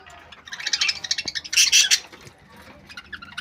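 Pet parrots and budgies in a breeding aviary, including tufted birds and lovebirds, give a close, busy mix of rapid chirps and sharp squawks, with quieter tweeting between louder bursts.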